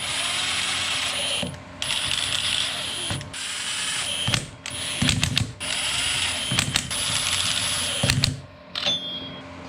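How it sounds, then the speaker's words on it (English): Impact gun on its lowest torque setting, snugging bolts in a star pattern during a front axle seal job on a Kubota BX tractor. It fires in loud bursts of rattling hammering, with short pauses between the bolts. "I've got my impact gun on the lowest torque setting."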